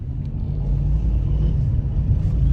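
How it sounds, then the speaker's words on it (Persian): A car passes along a street with a steady, close, low rumble that holds for the whole stretch. No one speaks. "ماشینه که رد شد"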